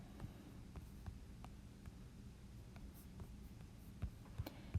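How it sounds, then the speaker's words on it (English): Soft keystrokes tap on a computer keyboard while a search term is entered, irregular light clicks at close range, a few louder taps near the end, over a low quiet room hum. "all I'm doing is typing in the term and the word image"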